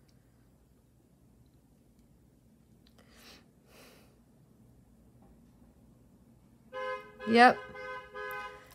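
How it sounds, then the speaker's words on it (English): A taxi cab's horn honks outside near the end, a short cluster of loud, tonal blasts rising over quiet room tone, with a brief spoken word just before. "What would one of my videos be without a cab honking?"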